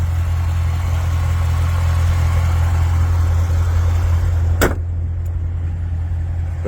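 A 2017 Chevrolet Corvette Z06 with its LT4 engine idles close by, a loud, steady low rumble that continues throughout. A brief click sounds near the end.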